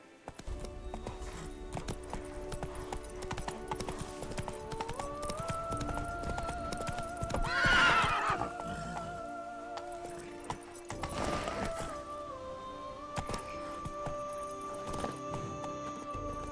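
Horse in The Witcher 3 game trotting with rhythmic clip-clop hooves, letting out a loud whinny midway and another shorter neigh later, over faint game ambience with no talk.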